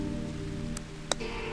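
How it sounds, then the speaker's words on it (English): Thin, steady rain falls outside an office in the game No More Work for Ito, a soft continuous hiss over a low tonal hum, with a couple of brief sharp ticks standing out. "occasionally pausing to watch the thin rain fall"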